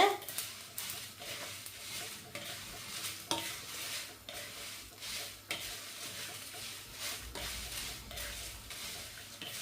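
Spices sautéing in a hot pan for a roasted fish curry, a soft continuous sizzle broken by repeated scraping stirs of a spoon against the pan at an uneven pace.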